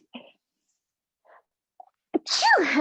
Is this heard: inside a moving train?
no